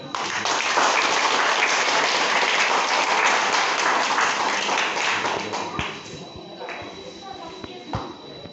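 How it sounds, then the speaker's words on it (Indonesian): A wedding congregation at a church blessing ceremony breaks into applause, dense clapping from many people filling the room, then thinning out into scattered claps, shuffling and a few taps near the end. "Mari kita memberikan tepuk tangan"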